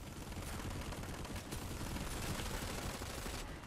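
Battle rifle fire in Planetside 2, a dense, steady barrage of overlapping gunshots with no pauses, heard at moderate distance, rather faint overall.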